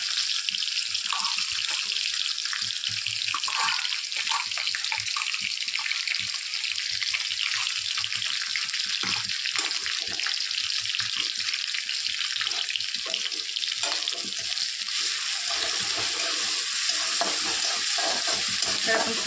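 Tomato and crushed green chili paste fry loudly with garlic in a pan, giving a dense continuous sizzle with stirring scrapes layered over it for the whole stretch.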